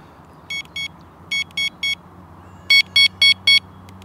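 A Mivardi M1350 wireless detector gives crisp electronic beeps in groups of two, then three, then a louder four, close and clear over a faint steady background hum.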